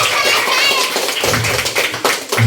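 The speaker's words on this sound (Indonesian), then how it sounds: "tepuk tangan dong kalau oke" Members of a group at a retreat fellowship session clap their hands together in a loud, uneven burst, with some taps and voices mixed in.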